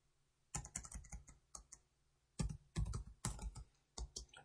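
Rapid, close typing on a computer keyboard in bursts with brief pauses, keystrokes clattering loudly and steadily while entering loudspeaker driver parameters into design software.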